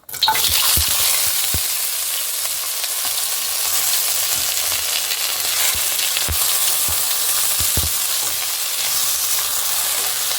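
Potatoes fry in hot oil with bay leaf and whole cumin for a Bengali aloo bhaji. A steady bright sizzle runs throughout, with occasional sharp clicks of a spatula stirring in the pan close by.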